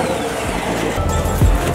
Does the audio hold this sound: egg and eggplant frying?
no